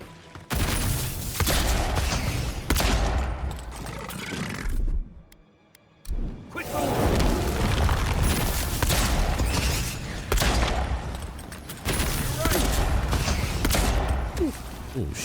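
Gunfire from a secondary gun in the video game Avowed comes in dense, loud bursts, with a short gap near the middle before the shooting resumes. Voices can be heard amid the shots.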